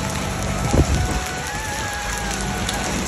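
Hailstones fall in a heavy hailstorm, a dense, steady patter of impacts on surfaces close by, with a few louder knocks near the start and no talking.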